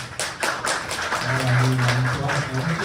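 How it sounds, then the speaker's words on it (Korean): Audience members clap at a Korean stand-up comedy show, a short ragged patter of hands that rises briefly and fades, with a low hum of voices underneath. "혹시 야구 보시는 분들 박수 한번 쳐볼까요?"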